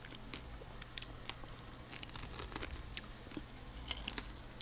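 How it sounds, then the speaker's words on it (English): Close, crisp crunching and chewing of Dungeness crab with irregular bites, over a low steady hum in the background. "How crunchy and delicious."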